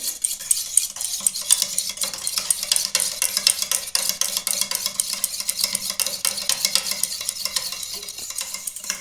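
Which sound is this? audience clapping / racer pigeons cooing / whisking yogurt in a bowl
whisking yogurt in a bowl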